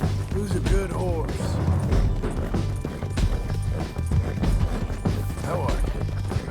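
Horse hooves clip-clop in the video game Red Dead Redemption, a repeated run of hoofbeats mixed with knocks and thuds, heard under characters talking.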